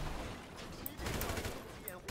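Gunfire in GTA 5, a fairly dense burst of shots with a few sharper cracks, heard over game background noise at moderate loudness.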